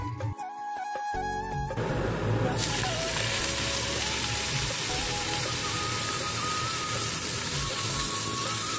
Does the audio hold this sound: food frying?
yes